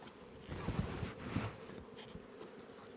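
Honey bees buzz around a hive up close in a soft, swelling drone that rises and falls, fairly faint, with occasional rustling in the background.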